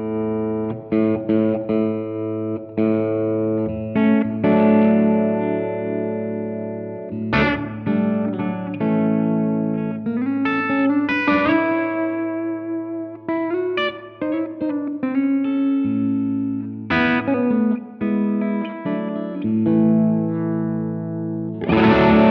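An electric guitar through a Greer Amps Sure Shot boost pedal plays loud, driven chords and single-note phrases with strong picking attacks and short pauses.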